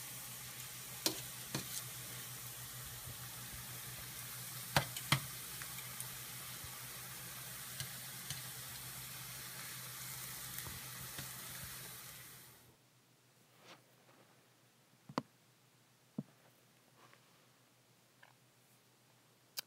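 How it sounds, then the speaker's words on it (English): Plantain pieces fry in a pan over medium heat with a steady crackling sizzle and occasional sharp pops, then the sizzle drops away to faint scattered clicks near the end. "at a medium heat, and I began the frying process"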